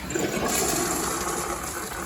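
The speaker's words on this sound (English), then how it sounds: "I should flush now with a little water." A toilet in a vintage camper flushes close up, a steady loud rush of water that holds evenly throughout, with no voices.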